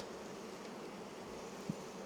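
Honey bees buzz in an open hive, a steady, faint, even drone with one soft knock partway through.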